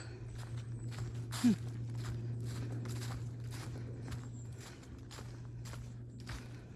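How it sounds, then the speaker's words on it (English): A distant helicopter drones steadily overhead, a low constant hum with a faint rhythmic pulsing of rotor beats running through it. "It's a helicopter, yeah."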